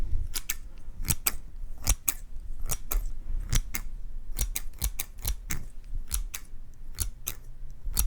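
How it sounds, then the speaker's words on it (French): Scissors snipping close to an inexpensive-to-high-end microphone test setup, a string of sharp crisp cuts in irregular rhythm, some in quick pairs, loud and alone with no talk. "Essayons le ciseau pour voir."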